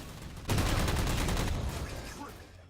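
Weapon fire in Halo 4 multiplayer: a sudden loud burst of rapid automatic gunfire with dense repeating shots, tailing off into a fading echo over about two seconds.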